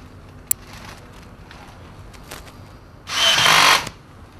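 A power screwdriver drives a screw into a chassis, one short loud whirring burst near the end, after light taps and handling clicks.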